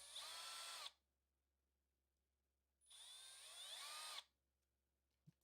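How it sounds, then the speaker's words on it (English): Power drill set low driving rod ends into an Axial SCX10 Pro RC crawler: two separate close, whirring bursts with a quiet pause between, the second longer and bogging slightly under load, followed by a faint click. "Probably go down to 1 on the old power drill there."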